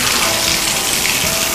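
Water runs steadily from shower and sink fixtures in a home under plumbing inspection, a loud, continuous broadband rush filling the whole span with no talk.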